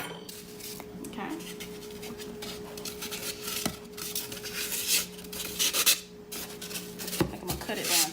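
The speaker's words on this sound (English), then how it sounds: "I will be cutting my floral foam to fit inside my box" Floral foam being cut down to size to fit inside a flower box, a steady dry scraping and rasping with brief louder scrapes, close by, with a constant low hum beneath.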